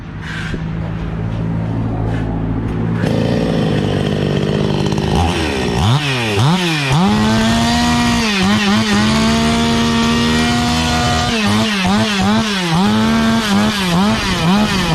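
A New West 6688i gasoline chainsaw with an 11.5-inch bar starts up and runs loud and close, revving in repeated rising and falling bursts between steady idling stretches, with no talk.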